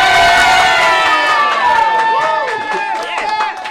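Excited crowd at a local watch party for a Wheel of Fortune broadcast, loud continuous cheering, whooping and shouting voices filling the space, rising and falling in waves.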